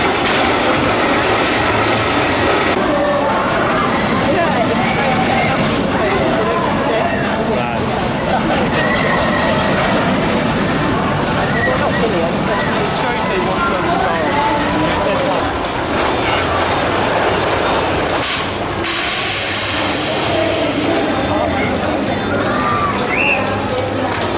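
The Iron Dragon suspended roller coaster at Cedar Point rumbles and rattles along the track in a loud, continuous ride, with wind noise, riders' shouts and crowd voices mixed throughout.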